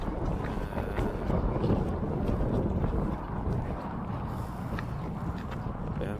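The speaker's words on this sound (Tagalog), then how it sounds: "Sobrang hangin, guys." Strong wind buffets the microphone outdoors at Luneta park, a continuous rumbling roar with uneven gusts and no talk.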